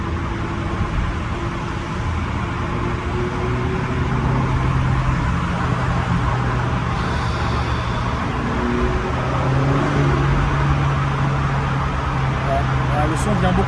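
A Ferrari engine drones steadily from inside the moving car, its tone sliding up and down with shifts, while someone talks over it throughout.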